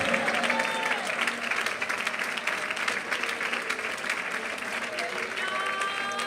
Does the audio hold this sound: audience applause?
yes